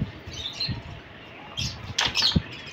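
A kept pigeon beats its wings in short bursts: a few soft flutters early on, then a quicker, louder flurry of flapping near the end, close by and otherwise quiet.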